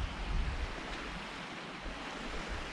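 Waves wash onto a tiny beach reached by a hike, a steady broadband surf rush mixed with wind buffeting the microphone, fairly constant throughout with no voices.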